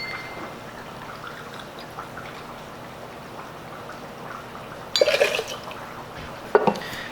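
Peach-flavored vodka being poured for a cocktail, a short liquid splash and trickle into a glass, then a brief clink near the end, close and clear with no talking.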